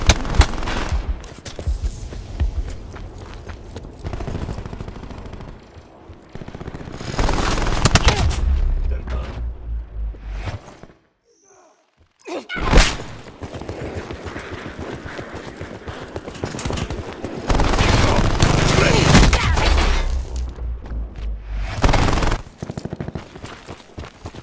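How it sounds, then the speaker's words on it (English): Thresher scorestreak gunfire raining down in a Call of Duty Black Ops 4 multiplayer match, long rattling volleys in several waves, loud and close, broken by a brief near-silent gap, with announcer voices over parts of it. "Hostile thresher commencing attacks."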